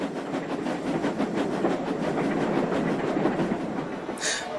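A train rumbles past with a continuous, fairly loud rolling roar and rhythmic wheel clatter, ending with a brief hiss.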